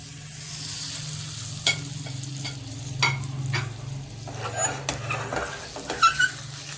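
Fig and date paste sizzles steadily in hot ghee while a spoon stirs and scrapes the pan, with scattered clinks and scrapes over a continuous frying hiss.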